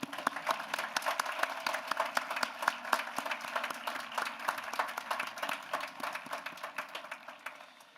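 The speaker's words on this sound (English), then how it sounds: "I just want to ask you for one last round of applause." Audience at a commencement ceremony applauding steadily, a dense wash of many hands clapping that holds for the whole stretch and eases slightly toward the end, with no talk over it.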